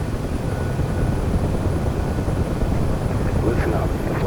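Steady, loud rotor and turbine drone of a UH-1H Huey helicopter in the DCS flight simulator, a dense continuous hum held throughout with no break.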